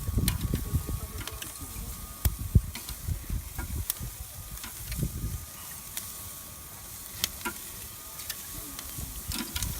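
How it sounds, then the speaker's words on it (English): Steady crackling sizzle of steaks on a hot Big Green Egg grill, with scattered clicks and scraping of utensils and occasional low thumps. "Oh yeah, you hear that sizzle?"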